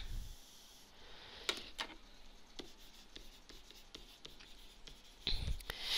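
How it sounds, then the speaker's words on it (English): A board eraser rubs off writing on a classroom board during a math lecture on linear models, a soft scraping swish with several sharp strokes spread across the stretch, close and quiet, with no talking. "So I'm going to erase that right now."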